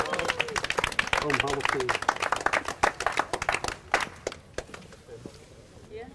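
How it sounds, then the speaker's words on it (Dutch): A crowd at a municipal flag-raising in Boxmeer, Netherlands, claps in a burst of applause, loud and dense at first, then thinning into scattered claps as a voice speaks briefly. "Dat mag ook wel een applaus hebben, of niet?"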